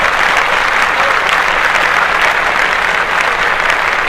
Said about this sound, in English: Clap that up again